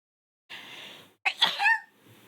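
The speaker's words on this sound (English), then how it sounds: "Achoo. Ah, my nose feels so itchy." One person sneezes up close: a sharp intake of breath, a brief pause, then an explosive nasal burst tailing off into a breathy release, alone in a quiet room.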